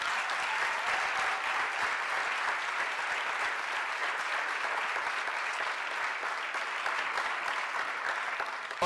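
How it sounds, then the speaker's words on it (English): A large audience at a talk applauds steadily for several seconds, a dense even wash of clapping held at a consistent level from start to finish. "You can clap for that, y'all."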